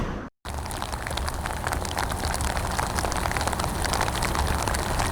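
Steady, dense rain pattering on a surface, loud and continuous after a brief moment of silence at the start, during a bass fishing outing.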